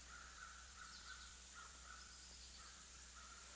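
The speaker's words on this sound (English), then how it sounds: "the peacefulness and quiet here, listening to crows cawing" Crows caw faintly in the distance, a few rough calls repeating in loose rhythm over a quiet background hiss.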